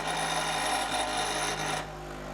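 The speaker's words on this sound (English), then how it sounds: "this is the Sears Craftsman Commercial 1/2 horsepower bench grinder" A Sears Craftsman Commercial 1/2 horsepower bench grinder, model 397.19440, fitted with two grinding stones, runs with a steady loud whine and hum, then eases slightly lower near the end as it keeps spinning.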